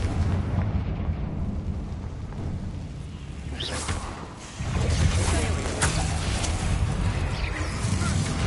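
A Confringo fire-blast spell in Hogwarts Legacy erupts in booming, rumbling explosions: a low roar builds, briefly dips, then bursts louder with crackling debris that continues to the end.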